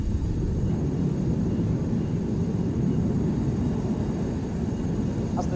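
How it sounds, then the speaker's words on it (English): Roaring jet engine of a Eurofighter Typhoon with neon flame livery climbing away at a Roblox video game airshow, a steady dense low rumble filling the whole stretch with no talk. "As the neon flame livery of the Eurofighter goes into the sky"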